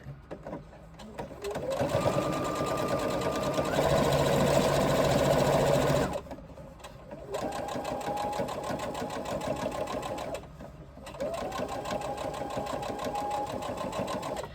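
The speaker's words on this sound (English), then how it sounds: "I'm now going to baste this in place from this side." A sewing machine bastes fabric for a crossbody bag in three runs of fast, steady stitching, each starting with a rising whir and separated by brief pauses, close and alone.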